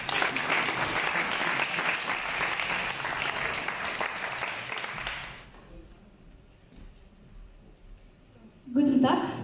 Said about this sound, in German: Für die Innenstadt begrüßt jetzt bitte mit einem kräftigen Applaus Anastasia mit ihrem Text über einen Mensa-Besuch.